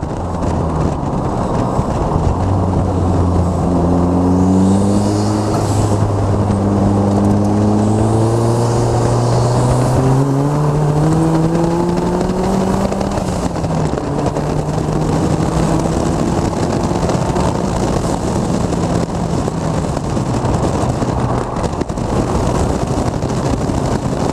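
A MEV Exocet Turbo kit car's engine gives a steady drone with rising and falling tones as it accelerates through gears, loud and continuous with road noise underneath.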